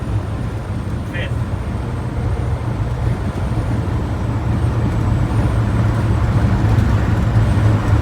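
A 1965 Ford Ranchero cruises in fifth gear with the flow of traffic, its steady low engine and road rumble continuous and close throughout, with a brief high tone near the start.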